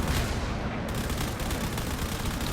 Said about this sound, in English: it's going to fire all of its cannons